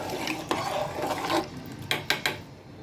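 A spoon stirs khichdi in a cooking pot, giving soft scraping and rubbing with a few sharper clinks against the metal. The sounds are quiet and close, with no voices.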